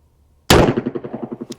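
A single loud, close revolver shot from a 38/44 Heavy Duty firing 130 grain loads, a sharp crack followed by a rapidly pulsing, decaying echo ringing out for about a second.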